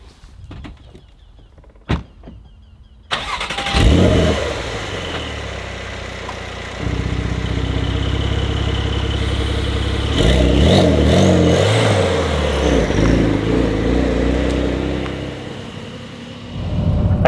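A Porsche 992 Carrera T engine cranks and fires after a quiet moment with a door sound, then settles into a steady idle before revving and pulling hard, its drone rising and falling loud and close with no talk.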